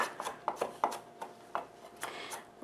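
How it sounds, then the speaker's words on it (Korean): A knife chops two garlic cloves on a cutting board. The crisp taps come in quick, uneven bursts, close and fairly quiet. "마늘을 다져 주세요"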